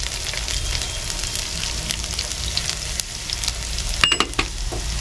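Garlic and spices tempering in hot oil in a home kitchen, with a loud steady sizzle and crackling spits throughout and a few sharper pops and stirring scrapes near the end.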